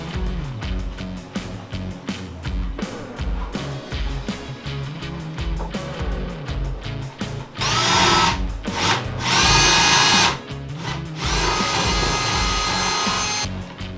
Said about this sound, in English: when you're drilling, as you can see, obviously this side's smooth